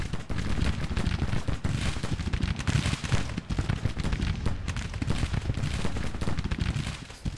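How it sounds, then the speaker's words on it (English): Dense, continuous artillery and gunfire rumble from a Grand Tactician: The Civil War battle, rapid overlapping booms and cracks filling the whole stretch, loud and busy with no voices. "Artillery battery"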